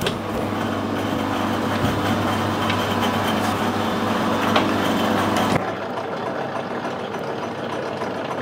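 A metal lathe, used while machining a vintage tractor radiator cap, runs during a change-wheel swap with a steady mechanical hum and whir that cuts off abruptly partway through, leaving a quieter low background.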